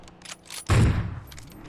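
Burst of automatic gunfire in PUBG Mobile, a loud sharp onset that rings out and decays over about half a second, with quieter game sounds before and after.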